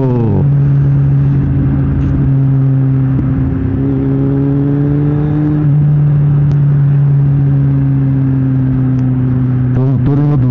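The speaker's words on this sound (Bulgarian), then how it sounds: "Този мотор има добра двигателна спирачка." Motorcycle engine braking on a ride through rain: a steady close engine drone with falling pitch as it decelerates, followed by a brief throttle blip near the end, with wind noise throughout.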